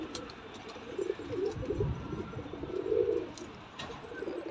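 Small-feathered pigeons bought from Gujrat give low, throaty coos in soft repeated bursts, nearby but fairly quiet, with no voices over them.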